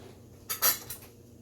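A spatula pulled out while baking a Danish almond puff, a short clatter of utensils against each other, two quick close rattles and a clink in a quiet kitchen.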